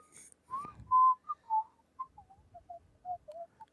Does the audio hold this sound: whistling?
yes